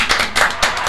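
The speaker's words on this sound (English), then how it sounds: "let's give him a hand clap, man." Hands clap repeatedly in a quick, uneven burst for a guest on a casual talk show, several sharp claps close by filling the short moment without speech.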